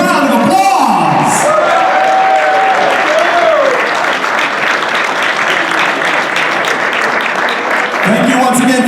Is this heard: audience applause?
yes